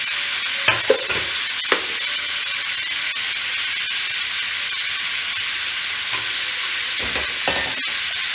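Pumpkin chunks sizzle steadily in hot oil in a pan while spice paste is stirred in, with a few sharp spatula scrapes and knocks over a continuous frying hiss; no talking.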